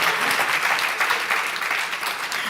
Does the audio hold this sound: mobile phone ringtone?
no